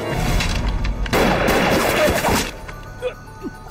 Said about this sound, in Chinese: 外面有枪声。